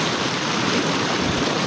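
Swollen river water rushing in a steady, broad roar that fills the whole clip, close and continuous with no voices.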